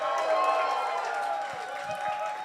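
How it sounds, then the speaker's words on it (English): A large audience at a business event for content creators bursts into a sustained round of applause, dense clapping and crowd noise steady and loud throughout, with voices mixed in. "So let's just give a huge round of applause for everybody"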